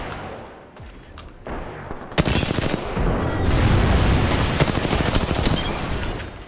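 A mounted gun in Apex Legends fires in a long, loud, rapid stream of close shots after a few scattered reports, with no talk over the shooting.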